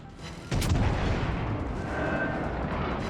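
Secondary guns on a German Kaiser battleship fire in World of Warships naval combat, one sharp loud blast followed by a rumbling roar of continued gunfire that carries through to the end.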